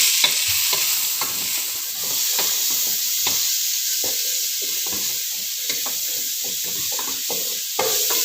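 A large chopped onion fries in oil over a low flame, a steady sizzling hiss broken by scattered clicks and scrapes of stirring.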